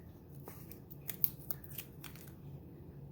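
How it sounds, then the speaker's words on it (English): Scissors snipping packaging off a Meater Plus meat thermometer during an unboxing, a few quiet crisp cuts and rustles over a low room hum. "So there's something else I gotta just kind of cut off here quickly."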